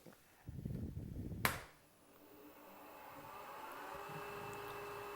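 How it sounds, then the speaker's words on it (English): A wood lathe spinning up as a bowl gouge is used for scraping, a steady whirring hum that rises and holds after a short burst of handling noise and a sharp click near the start. "let me turn the lathe on, and we'll see what that looks like"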